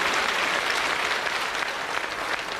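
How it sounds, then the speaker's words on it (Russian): A theater audience applauds steadily at a humor show, dense sustained clapping filling the room at even loudness throughout with no voices over it. "Можно аплодировать, я не против."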